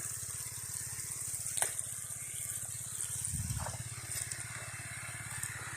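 Continuous low rushing of irrigation water pumped through a flexible pipe into a wheat field, steady and moderately faint with a mechanical drone underneath, no talk.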